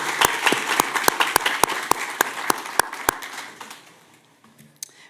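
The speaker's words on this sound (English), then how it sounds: "if everyone in the room would like to give a round of applause for both of these organizations" Room applause at a city commission meeting in Boynton Beach, Florida: a dense wash of clapping with sharp individual claps standing out, fading over a few seconds to near quiet, with a stray clap near the end.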